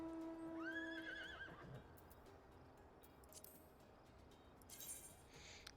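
A small horse mount in a video game neighs loudly in one rising whinny, followed by faint hoof clip-clop and soft game noises.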